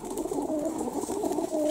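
Pigeons of a high-flying breed coo repeatedly at close range on an August morning while waiting to be released for flight, soft throaty calls rolling over one another against a steady background hum.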